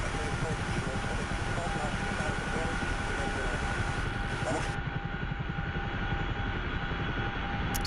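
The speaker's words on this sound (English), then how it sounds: "So the Chinook is a surprisingly easy helicopter to fly." A CH-47F Chinook helicopter's rotor and engine drone steadily and loudly throughout in the DCS flight simulator, a constant mechanical roar with a low rhythmic thump underneath.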